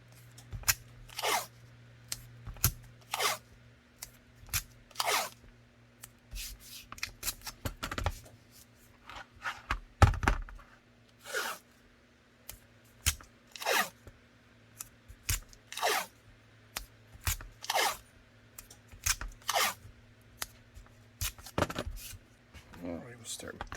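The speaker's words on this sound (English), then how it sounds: "I'm going to start with our" Layers of tape are cut and handled while building a holster for an FN 509 Tac with a Baldr S light, giving a long series of sharp, irregular snips and crinkles. A person talks in between.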